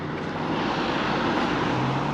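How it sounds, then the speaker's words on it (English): A London 301 bus passes on a road in Thamesmead near a supermarket, its engine giving a steady, fairly loud rumble with a low hum and surrounding traffic noise. "There's the next 301 bus"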